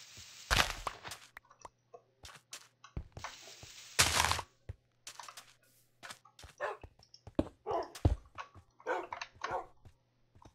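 A dog in a video game barks in short, sharp bursts, with scattered whimpers and footstep-like taps between the barks, moderately close over about ten seconds.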